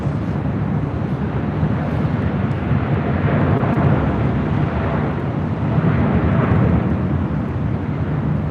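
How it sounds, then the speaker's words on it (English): WestJet Boeing 737-700 arriving from Calgary, a moderate, steady broadband jet rumble with slight swells, mixed with a windy wash and no voices. "WestJet flight 1510 coming in from Calgary in a 737-700."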